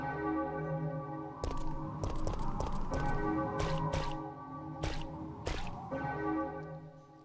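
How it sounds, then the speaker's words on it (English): Deep church bells toll in the Resident Evil 3: Nemesis video game while climbing down a ladder, with repeated resonant strikes ringing out over a sustained tonal music bed, loud and continuous throughout. "I love the bells ringing as you're coming down the ladder"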